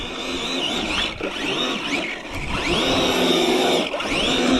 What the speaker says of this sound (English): There's no way you can't see that tire smoke.